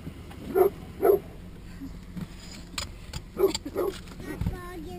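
A wary dog barks a few short, sharp times at a stranger, with pauses between, mixed with faint whimpers and light background noise; no clear speech.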